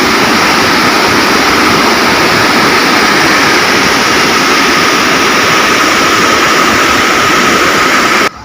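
Water roars through the fully opened gates of Thotapalli dam as a loud, unbroken, dense rushing torrent that holds steady until it cuts off at the end.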